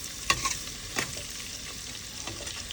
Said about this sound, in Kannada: ಈಗ ಎಲ್ಲವೂ ಕೆಂಪಾಗೋ ಮಟ್ಟ ಸ್ವಲ್ಪ ಕೆಂಪಿಸ್ಬಿಡೋಣ್ರಿ ಇವನ್ನ ಎಣ್ಣೆ ಒಳಗೆ